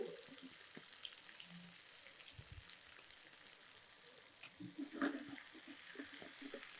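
Capsicum (bell pepper) sautéing in a pan for a chicken and egg fry gives a soft, steady sizzle with scattered crackles and a few light stirring clicks, fairly quiet and close, with no talking.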